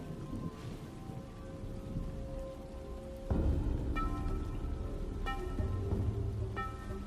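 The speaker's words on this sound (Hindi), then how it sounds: "ठंड की बारिश फिर शुरू हो गई।" Steady rain falls with a continuous hiss, accompanied by sustained musical tones that shift and swell partway through.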